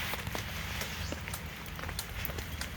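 Steady rain falls outdoors, a dense, even patter with scattered sharper drops tapping on a surface, fairly quiet and unbroken throughout.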